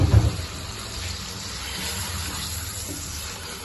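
Water pours steadily into a cooking pot of phaliyan gosht (beans and meat curry), making a continuous gushing, splashing rush with a brief louder burst at the start.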